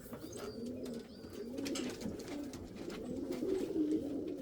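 Indian fantail pigeons coo steadily in a loft, a continuous, fairly close murmur of overlapping low cooing calls with no talking.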